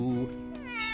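Cartoon kittens meow in a short high-pitched cry with clear harmonics, close and fairly loud, with a brief second mew trailing off near the end.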